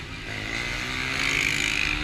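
A motorcycle engine revs up and holds a rising, raspy whine for about two seconds, heard close and moderately loud with no talking.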